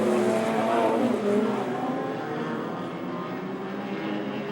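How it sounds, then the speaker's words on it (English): Stock rod race cars roll off together on a formation lap around a stock car circuit, a steady, loud engine drone with layered revving that holds throughout, with no voices. "Time for the stock rods as they join the track here."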